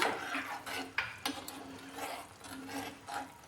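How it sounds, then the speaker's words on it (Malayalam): A spoon stirring fish curry with tamarind juice in a pot, giving repeated scraping and clinking strokes against the pot in an uneven rhythm over a low bubbling background, with no talking. "അതൊന്ന് തിളയ്ക്കുന്നത് വരെ ഒന്ന് ഇളക്കി കൊടുക്കണം."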